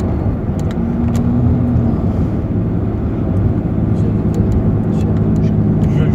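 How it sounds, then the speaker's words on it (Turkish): Opel Omega 2.5 V6 exhaust droning steadily during a test drive, a loud continuous low rumble heard from inside the car with a brief tonal rise, while people talk over it. "Egzoz sesi mi bu?"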